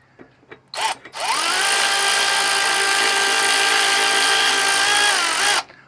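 A Milwaukee power tool tightens the bracket nuts on a Firestone airbag fitted to a 2018 Ram 2500. A couple of short blips come first, then one sustained high-pitched whir that holds steady for about four seconds and cuts off.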